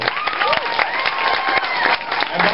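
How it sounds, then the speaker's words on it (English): Lively applause from a crowd at a bookstore author event, dense clapping mixed with excited voices and a few cheers. "so if we can all give Anderson's a round of applause."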